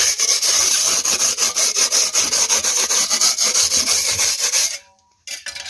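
Metal knife and sandpaper scraping plaster over reinforced insulation on a wall, a steady run of close, loud rasping strokes in quick rhythm for nearly five seconds before stopping abruptly, followed by a few faint knocks.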